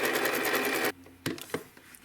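A sewing machine stitches quilt block pieces in a fast, steady run of needle strokes for under a second, then stops, leaving a few faint clicks and thumps from handling the fabric.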